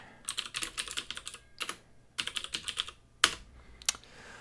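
Keystrokes on a computer keyboard come in quick bursts with short pauses, close and fairly soft, while a text file is created for a Python program.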